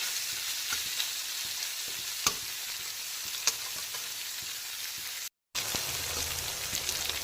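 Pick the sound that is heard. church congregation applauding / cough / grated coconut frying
grated coconut frying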